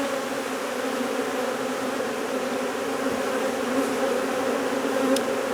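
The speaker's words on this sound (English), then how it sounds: "we're going to try and release some of the bees without releasing her too much." Honey bees released from a hive while the beekeeper tries to hold back the queen: a dense, steady buzzing swarm close by, continuous throughout with no talk.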